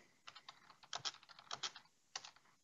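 Someone types a comment into ship management software on a computer keyboard, producing quick, close, clattering keystrokes in short irregular bursts with brief pauses and nothing else beneath.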